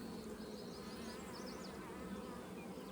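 Honey bees on a hive frame of brood, nectar and pollen, a dense continuous buzzing hum, soft and steady throughout with no talk.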